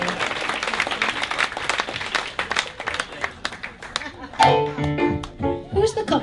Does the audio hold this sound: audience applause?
yes